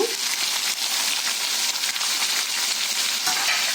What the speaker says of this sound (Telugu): వేడయ్యాక మనం ముందుగా కట్ చేసుకున్న ఉల్లిపాయ పచ్చిమిర్చి టమాటాలు వేసుకుందాము